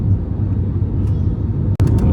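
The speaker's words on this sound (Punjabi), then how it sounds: "ਇਹ ਜਹਾਜ਼ ਉਤਰਨੀ ਵਾਲਾ ਜੇ ਬਸ ਦਿੱਲੀ 에ਅਰਪੋਰਟ ਤੇ" Steady low cabin rumble of an airplane coming in to land at Delhi airport, loud and continuous with a brief dropout near the end.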